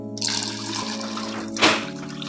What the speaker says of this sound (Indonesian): Kita tuang larutan minyaknya.